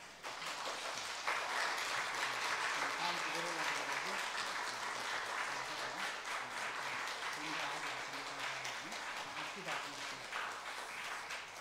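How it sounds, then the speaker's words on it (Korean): A church congregation applauding to encourage a young man leaving for military service, a sustained, even wash of clapping from many hands, with a voice speaking over it. "우리 전달할 때 여러분들 큰 박수로 격려해 주시기 바랍니다"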